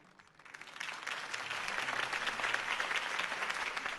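Applause swells from quiet to a full, steady clatter for Harvey Dent's campaign speech in Batman: The Telltale Series, a crowd clapping at moderate distance without any voices.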